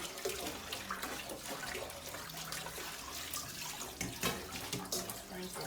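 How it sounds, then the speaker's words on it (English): Tap water running over a plate in a kitchen sink as it is washed after cooking turn cornmeal, a continuous faint splashing flow with small clinks and bumps throughout. "Right now, you need to start washing your own plate now."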